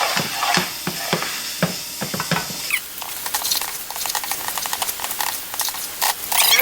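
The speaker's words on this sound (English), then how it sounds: "Put those in there, and we're going to mix it up real good" Seasonings being stirred into a red beans and rice mixture in a bowl, a steady patter of wet scraping and mixing strokes, close and continuous.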